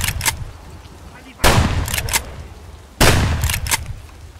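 Shotgun blasts in the video game Escape from Tarkov: two loud, close booms about a second and a half apart, each trailed by quick mechanical clacks, with a smaller report at the very start.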